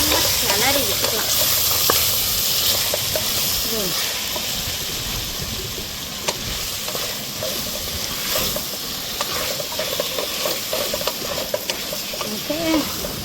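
Mint and coriander sizzle and hiss while being stirred in a pan for veg biryani, a steady frying crackle with scrapes of the spoon, as a voice talks over it.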